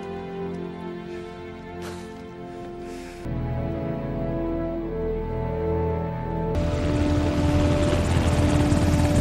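A helicopter arrives with a steady rotor and engine drone that grows louder and denser, building in stages as it draws nearer, with no voices.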